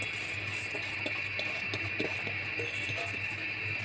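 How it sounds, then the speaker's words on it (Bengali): Rice and lentils stir-fried with cabbage in a pot, a soft sizzle with light scraping and spoon clinks against the pot beneath a steady background hum. "চাল ডালটা এখন আমি ভালো করে সময় নিয়ে একটু কষাই নেব"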